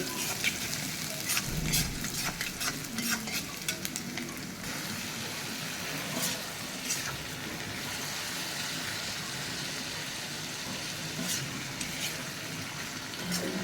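Bitter gourd fries in a pan with a steady, continuous sizzle close up, broken by occasional clicks and stirring sounds throughout.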